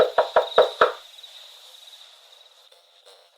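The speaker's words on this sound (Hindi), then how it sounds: "हताशा में मैंने एक बार फिर दस्तक दी।" Four sharp knocks in quick succession on a door, close and loud, followed by quiet room tone with a faint high hum.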